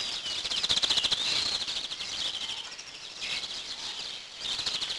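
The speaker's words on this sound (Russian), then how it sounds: "послушать звуки природы, как птички радостно поют" Birds sing in a spring morning outdoors, a steady chorus of bright chirps and trills heard at moderate distance over faint background hum, with no voices.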